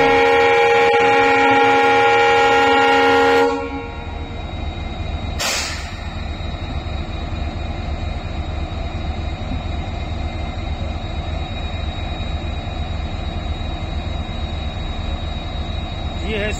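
Indian Railways Bikaner–Yesvantpur Express hauled by a Krishnarajapuram-shed WDP4D or WDP4B diesel locomotive: a loud multi-tone horn blast opens, a short second burst follows, then steady rumbling wheel-and-engine noise of the passing train.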